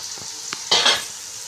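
Tomatoes and crushed garlic fry in a pan, a few brief stirring strokes over a soft sizzle, close and short with no voices.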